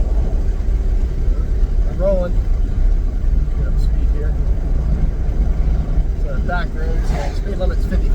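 Engine and road roar of a wrecked, revived Chevrolet Tahoe cruising at highway speed on old tires, a loud continuous rumble filling the cabin, with someone talking over it at moments.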